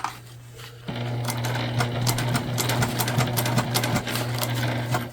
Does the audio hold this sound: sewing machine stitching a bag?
yes